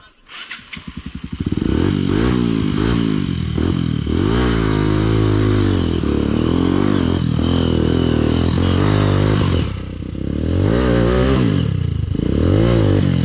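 A motorcycle engine revs hard and steadily at close range, its pitch rising and falling across repeated throttle blips at a Red Bull off-road event, with a short dip midway and faint talk underneath.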